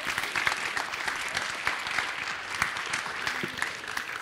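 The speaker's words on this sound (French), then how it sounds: "On peut les applaudir encore." Steady audience applause at a Master Finance graduation ceremony, dense clapping from a crowd sustained throughout at moderate level, with a few sharper claps standing out and a brief voice near the end.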